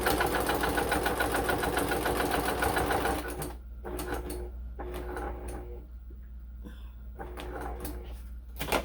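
A home sewing machine stitches in a rapid, even run, then stops and restarts in several short bursts, close and fairly loud with a steady hum beneath and no talking.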